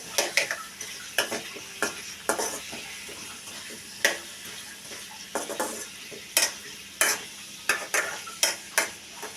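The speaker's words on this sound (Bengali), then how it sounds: "এবার আলুগুলো ভেজে নিচ্ছি তেলে" Potatoes fry in oil in a pan for a potato-cauliflower dum curry, a soft steady sizzle broken by sharp, regular scrapes and clinks of a spatula stirring against the metal.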